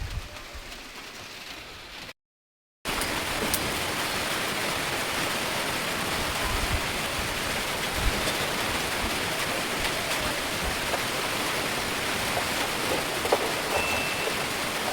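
Steady rain falls in a dense, continuous hiss for the full length, loud and close, with one brief dropout near the start and no voices.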